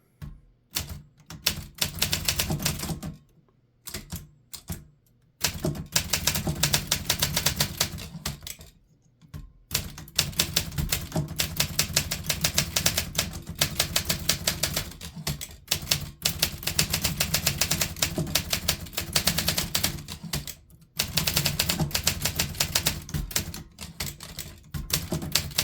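Rapid typing on an Olympia SM8 manual typewriter with an elite 12-character-per-inch typeface: dense bursts of sharp key strikes separated by short pauses, close and crisp throughout.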